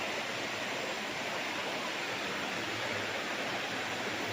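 River water flowing beside a farm lot in Liliw, Laguna, a steady broadband rush that stays loud and constant throughout with no voices.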